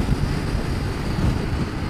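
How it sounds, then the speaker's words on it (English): Strong, steady wind roars across the microphone while riding a Honda CB500X motorcycle, a dense continuous rush with no talk. "That's just massive wind, and I need to correct my line anyway."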